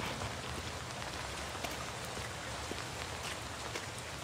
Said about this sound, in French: Même quand il pleut, c'est très joli.